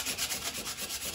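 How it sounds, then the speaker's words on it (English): Medium-grit sandpaper rubs over a wooden toy piece in quick, even back-and-forth strokes, a soft close scratchy rasp repeating without pause. "And then I'll take the medium paper, kind of get there a little more."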